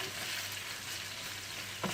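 Steady broadband sizzle of ground meat frying in a pan for içli köfte filling, continuous and close, with a brief scrape near the end.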